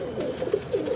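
Pigeons perched on a ledge coo softly in a short series of low, rounded calls with no voices over them.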